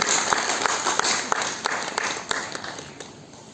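Applause from an audience at an award or celebration event, a steady wash of many hands clapping with a few sharper individual claps standing out, moderately loud and continuous throughout.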